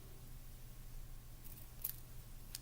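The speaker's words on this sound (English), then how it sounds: "now I'm going to cut those strips into smaller squares using my scissors" A few quiet, crisp snips of scissors cutting paper strips into small squares, isolated clicks spaced apart over a low steady hum.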